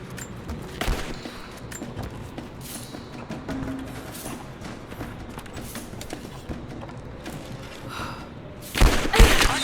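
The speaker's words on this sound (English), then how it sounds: "I'm taking fire!" Gunfire in the action game Rise of the Tomb Raider, with scattered shots and thuds crackling through a busy battle, then a loud close burst near the end, with no voices.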